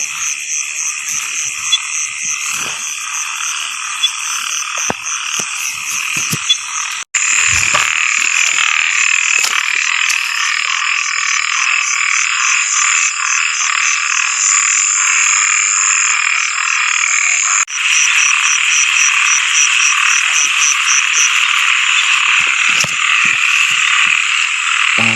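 Dense chorus of frogs croaking continuously at close range, a steady rhythmic trilling that stays loud throughout with a couple of brief breaks, no voices over it.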